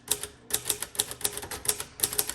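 A green crinkle-finish 1957 Royal Quiet Deluxe typewriter being typed on, with crisp, close, loud keystrokes in quick rhythmic bursts and short pauses between runs of clacks.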